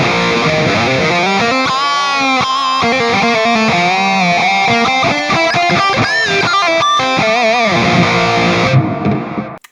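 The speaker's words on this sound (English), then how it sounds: "We have a delay here. We just want to turn the delay up a little bit." Distorted electric guitar run through a Mooer multi-effects processor with delay turned up, a continuous driven melodic line with echoing repeats that plays loud throughout and cuts off near the end.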